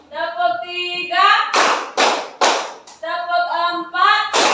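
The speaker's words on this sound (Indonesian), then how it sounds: "Tepuk 1, tepuk 2, tepuk 3," A classroom of students claps hands together in a counted rhythm, with sharp group claps in short bursts between a woman's sung counting.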